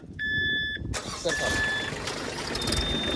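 A Mahindra Oja tractor and a Kubota 2420 tractor in first gear, a beeping tone followed by an engine cranking and catching into a steady rough idle, with a voice speaking over it.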